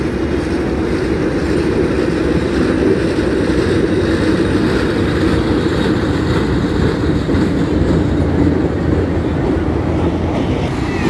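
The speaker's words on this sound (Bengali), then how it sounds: "দ্বিতীয় নাম্বার লাইন দিয়ে আসছে ট্রেন" A train on a railway line near Gandaria station passes close by as heard from a rooftop, a continuous loud rumble and rattle of wheels that holds steady throughout.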